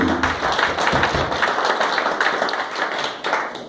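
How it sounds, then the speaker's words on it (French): At a Congolese community general assembly, a small crowd claps irregularly in a loose, uneven patter that fills the room for several seconds. The claps are moderately loud and there is no talk over them. "il faudra applaudir"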